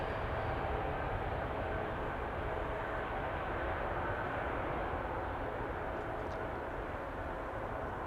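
An airliner taxis across runway 27 at Amsterdam Schiphol Airport, its engines giving a steady, broad rumble throughout. No distinct bumps stand out from the continuous roar.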